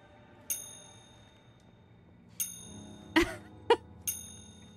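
Bell rung several times in the Resident Evil 4 Remake video game: sharp metallic dings with ringing tails, spaced out, two quick strikes close together near the end, against quiet background.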